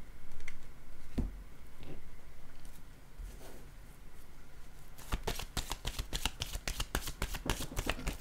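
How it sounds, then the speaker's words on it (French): Tarot cards are shuffled close up, starting after a few soft handling rustles and building into a rapid, crisp run of riffling clicks that continues to the end. "Attendez, je vais prendre une autre carte."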